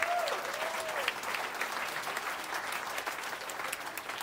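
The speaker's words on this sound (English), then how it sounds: "Let's give our amazing faculty a big round of applause." Graduation commencement audience applauding the faculty, a steady sustained wash of clapping from a large crowd that runs the whole length at even loudness.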